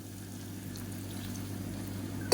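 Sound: pouring a little water into cooking tomatoes

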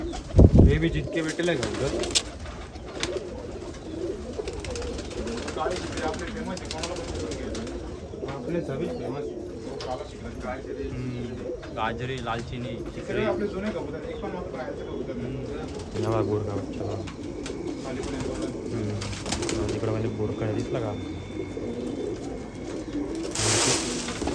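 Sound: pigeons cooing, black shikra pigeon

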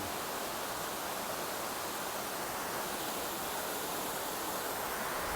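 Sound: waterfall at a temple in the water

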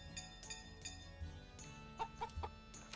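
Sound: chicken clucking in Story of Seasons Pioneers of Olive Town video game

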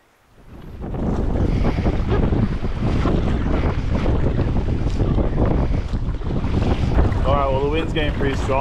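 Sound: strong wind on a lake while paddling

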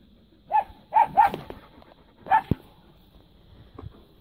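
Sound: dogs and puppies at an animal shelter

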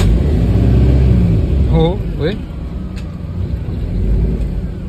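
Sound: car with newly installed exhaust system starting and revving

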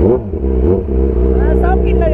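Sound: motorcycle engine revving

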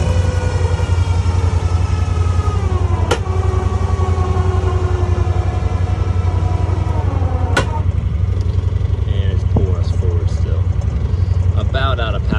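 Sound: tractor winch pulling

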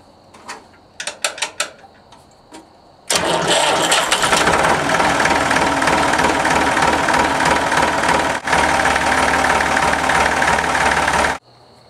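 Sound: Massey Ferguson 245 tractor diesel engine starting and idling

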